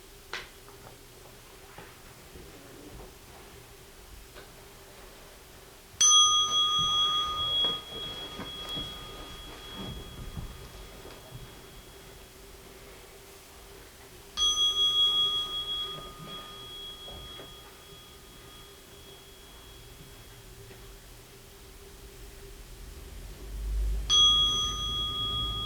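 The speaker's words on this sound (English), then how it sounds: "invite the bell" A Buddhist meditation bell rung three times in a quiet church during an interfaith gathering, each stroke striking sharply and then ringing out in a long, clear, slowly fading tone across a hushed room.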